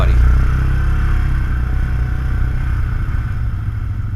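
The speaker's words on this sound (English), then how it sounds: "they got a nice throaty sound of that stainless steel exhaust" An idling ATV engine with a stainless steel exhaust rumbles steadily and close by at a poker run, giving a deep, throaty drone throughout.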